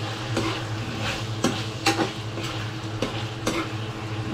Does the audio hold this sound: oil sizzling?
yes